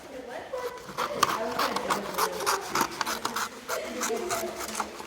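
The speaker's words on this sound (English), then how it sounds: "You're gonna trim the edge so that it's about the same as the top and bottom." Paper edges are trimmed for bookmaking in a class, with repeated rasping, scraping cutting strokes in an uneven rhythm while people talk over them.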